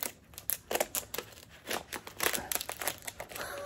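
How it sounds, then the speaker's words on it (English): Crinkly plastic packaging being cut with scissors and torn, a run of sharp crackling snips and rustles, close by and fairly quiet. "Gotta use the cutting utensils, the scissors."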